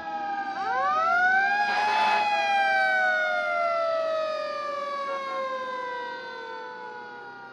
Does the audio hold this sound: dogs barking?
no